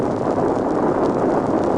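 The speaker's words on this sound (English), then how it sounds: "The bomb exploded." A bomb blast on a mountainside sets off a snowslide, heard as a loud, steady, broad rumbling roar that fills the whole moment without pause.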